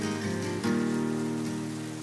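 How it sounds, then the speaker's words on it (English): Steady rain falls in wet Welsh weather outdoors, a dense continuous hiss at even loudness for about two seconds, with a sustained low tonal hum running underneath. "Look at the rain."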